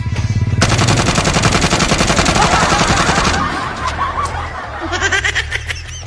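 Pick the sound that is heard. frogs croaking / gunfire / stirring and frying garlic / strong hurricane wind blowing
gunfire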